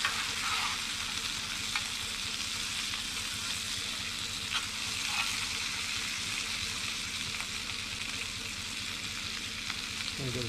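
A steak fries on a firebox stove at a camp, giving a steady close sizzle with crackling spatter and occasional stirring or shifting sounds, with no talking.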